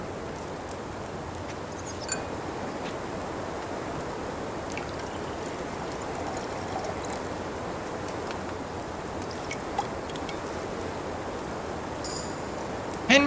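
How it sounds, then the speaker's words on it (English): Liquid pouring steadily during alchemy in Kingdom Come Deliverance II, a continuous trickling stream heard alone at moderate level, with a few faint clinks. "Finally pour."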